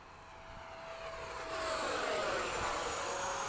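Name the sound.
Eflite 80mm RC F/A-18D jet flying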